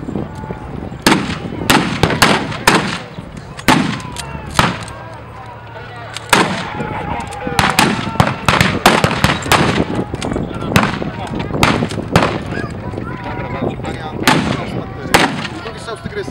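Tank cannon shots from a Tiger and a T-34 at a historical battle reenactment in Stężyca, a long series of loud, sharp blasts at irregular intervals, echoing outdoors with a commentator's voice between them.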